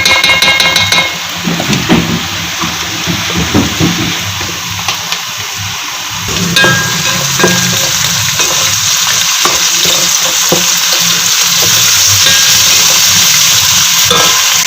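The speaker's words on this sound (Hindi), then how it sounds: "लहसुन अदरक का पेस्ट डाल।" Garlic-ginger paste frying with softened onions in a pan for a mixed vegetable bhujia, a steady loud sizzle with scattered stirring scrapes and clinks throughout, no talking.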